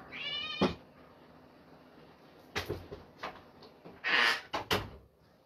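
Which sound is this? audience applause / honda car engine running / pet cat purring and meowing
pet cat purring and meowing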